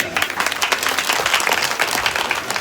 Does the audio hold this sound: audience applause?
yes